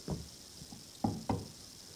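Knuckles knocking on wood: three or four short, solid knocks close up, one single rap followed by a quick pair, in a quiet room.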